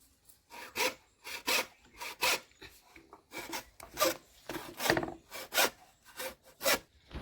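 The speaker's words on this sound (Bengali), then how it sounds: "এই বাঁশটা এখন পিস পিস করে কেটে নিচ্ছি।" Bamboo cut into pieces with a saw while preparing bamboo chicken outdoors, giving a steady run of about fifteen loud rasping strokes, each a rough, scratchy burst, with no talking.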